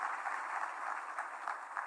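An audience at the launch of Konza Technopolis applauds, giving a steady wash of clapping for a couple of seconds at moderate distance.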